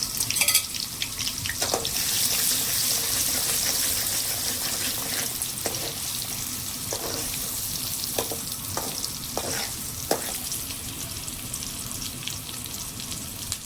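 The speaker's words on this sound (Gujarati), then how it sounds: "તેલ ગરમ થઈ ગયું છે. તો હવે આપણે આમાં નાખી દેવાની છે ડુંગળી." Onions frying in hot oil: a continuous loud sizzle and crackle, with intermittent clicks and scrapes of stirring, close up with no voices.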